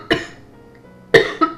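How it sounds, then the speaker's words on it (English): Three sharp, close coughs from a person: one single cough, then a pause, then a quick pair near the end, with no talking. "I don't mean to cough."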